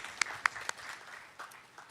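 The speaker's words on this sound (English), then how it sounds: "So a round of applause for everybody here." Audience at the opening of a new affordable housing community gives a brief round of applause, a few sharp distinct claps at first, then thinning, scattered clapping that fades quickly.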